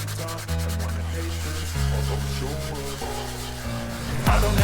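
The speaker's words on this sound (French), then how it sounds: "je vais pouvoir poncer le rebouche-bois" Wood filler on a homemade wooden bird feeder is sanded by hand, making a continuous, close rubbing scrape with steady back-and-forth strokes.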